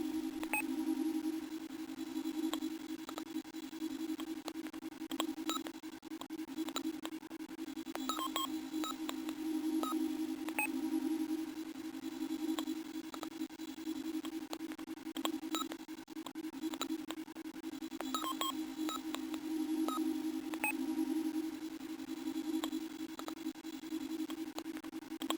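A steady electronic hum with a sustained mid tone, scattered with faint beeps and clicks, like an old dial-up modem connection tone.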